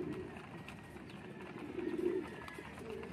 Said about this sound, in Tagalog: Yan, ito na naman yung ibon mo.